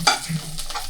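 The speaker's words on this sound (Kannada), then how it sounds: "ಈಗ ಬೆಳ್ಳುಳ್ಳಿ ಹಾಕೊಳ್ಳೋಣ. ಚೆನ್ನಾಗಿ ಮಿಕ್ಸಿಂಗ್ ಮಾಡೋಣ ಗೈಸ್." Garlic frying in a pan on low heat is stirred with a spoon, giving a few scraping strokes over a soft, close sizzle, with no talking.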